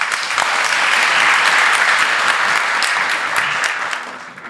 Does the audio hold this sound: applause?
yes